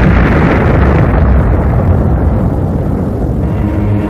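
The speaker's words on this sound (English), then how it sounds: "Trailing streams of fire, it broke into our atmosphere, and then came the explosion." A massive, sustained explosion of a space object striking Earth, a deep roaring rumble that fills the whole stretch at high loudness with no letup.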